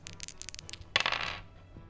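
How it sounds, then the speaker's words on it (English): Dice are rolled onto a hard surface in a tabletop role-playing game, giving a quick series of light clicks followed by a brighter clattering tumble, close and faint, with no talk. "Okay, roll the dice."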